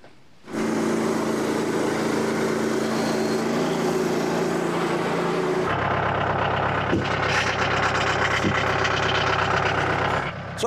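A Frontier OS27 portable sawmill runs with its engine loud and steady while a worn blade cuts a red oak log, the pitch and texture shifting partway through as the cut loads up.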